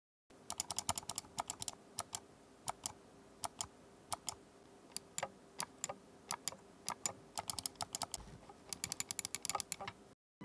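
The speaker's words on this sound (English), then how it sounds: "The 2 main left and right clicks are very light and require hardly any pressure to actuate" Light, crisp clicking of the main buttons on a Logitech G705 Aurora gaming mouse in quick irregular bursts, close and quiet, with short pauses between clusters of clicks.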